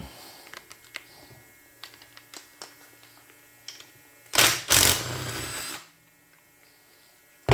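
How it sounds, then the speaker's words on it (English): Power tool spinning a 12mm bolt out of a Yamaha Vmax 1200 engine case, a loud close whir for about a second and a half after scattered light clicks and taps. "So we're going to go ahead and pull that bolt out."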